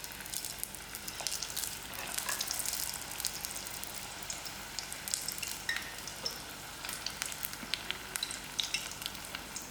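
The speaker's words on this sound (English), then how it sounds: "put in my patha rolls to fry" Patha rolls frying in oil over low heat, a steady soft sizzle with scattered pops and crackles, close and fairly quiet, with no talk.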